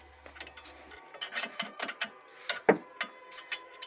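Ratchet wrench tightening two bolts and nuts on the front strut of a Renault Logan during shock absorber replacement, a series of uneven mechanical clicks and short bursts close by, with a low hum only at the start.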